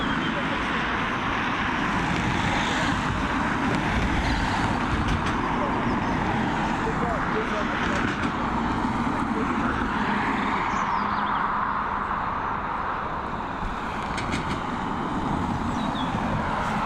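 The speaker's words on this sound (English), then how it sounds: "Here we have the A330 taxiing to North Runway" Steady whining jet engine rumble from an Airbus A330 airliner taxiing to the north runway at Dublin Airport, sustained and fairly close with a faint breeze of background noise and no clear break.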